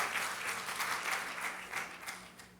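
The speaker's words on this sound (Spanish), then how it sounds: "Démosle ese aplauso al Señor" A church congregation applauds the Lord during a sermon, a brief spell of lively overlapping hand claps at moderate volume, swelling and easing slightly.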